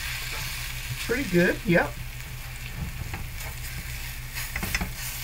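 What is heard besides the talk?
pork loin country short ribs browning in a pan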